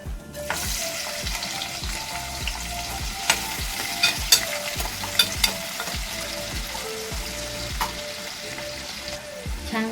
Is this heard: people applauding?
no